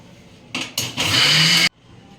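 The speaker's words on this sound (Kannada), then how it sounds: "ರುಬ್ಬಿ ಕೊಡಪ್ಪ ರಾಹುಲ ರುಬ್ಬಿದಾಯ್ತಾ" An electric mixer grinder grinds green chillies and other ingredients for biryani. Two short pulses are followed by a steadier, louder whir of about a second that stops abruptly, close and loud.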